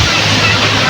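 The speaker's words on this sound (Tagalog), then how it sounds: "Napakalakas po ng alon ngayon mga kababayan." Strong sea waves and wind at a beach, a loud, broad roar of surf and gusting air filling a brief second-long moment, close and unbroken.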